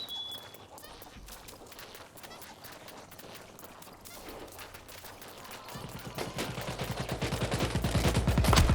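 Rapid automatic gunfire from a bot in a video game, building into a loud, dense burst of shots toward the end over ongoing game noise.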